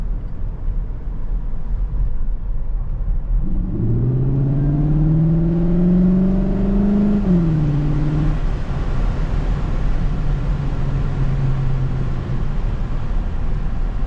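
Inside a Cupra Formentor 1.4 e-hybrid driving in sport mode, the engine note climbs steadily and then drops back, over constant loud road and cabin rumble.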